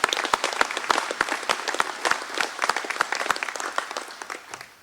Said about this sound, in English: a quick round of applause for Lutz's